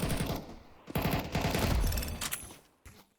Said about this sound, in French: c'est pas une arme longue distance la MP5